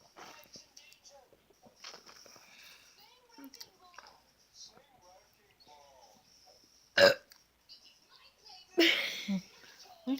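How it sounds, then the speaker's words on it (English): Loud burps during a chug challenge, two strong bursts near the end following softer gulps and quiet child speech and whispering earlier. "Another burping video."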